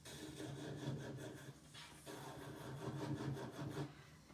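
A nail buffer rubs briskly across fingernails in quick repeated strokes, a soft close scratchy rasp with short pauses, heard on its own and quietly.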